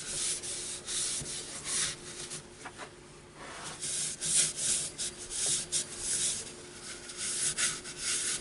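A wooden bowl spinning on a lathe is rubbed by hand, making continuous rasping, swishing friction that swells and fades in uneven strokes, close and alone.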